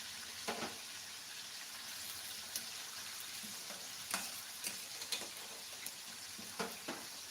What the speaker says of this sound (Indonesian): Bunda ngapain itu? Goreng ayam.